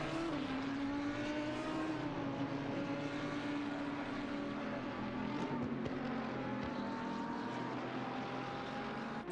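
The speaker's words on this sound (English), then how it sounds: "Got a nice gaggle of cars." GT3 race cars howl around Silverstone in a sim racing game, a loud continuous engine drone with pitch slowly wavering as a pack runs together, no voices over it.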